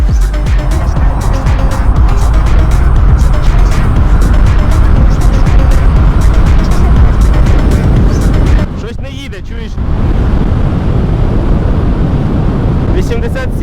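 Electric motorcycle accelerating hard toward 100 km/h on a road, a loud continuous whine and rush of wind and tyre noise that dips briefly near the end before resuming, with a rider talking over it.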